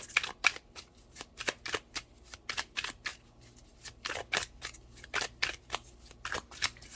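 Tarot cards shuffled by hand, a rapid series of crisp riffling flutters in uneven bursts, close and fairly quiet, with no talk.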